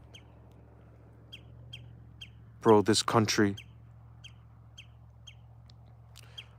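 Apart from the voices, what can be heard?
bird calling on a hillside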